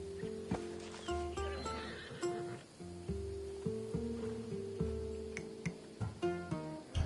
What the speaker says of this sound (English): I wouldn't want you to take an unworthy horse.